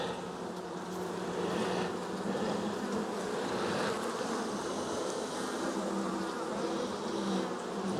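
Honey bees buzz around a colony during a late-season hive check, a dense, steady droning hum of many insects close by, continuous and fairly quiet with no talking.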